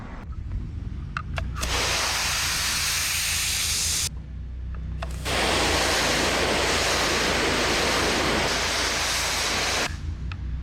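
A pressure washer sprays water while cleaning, with a loud, broad hiss in two long bursts separated by a short pause, over a low motor hum. No voices are heard.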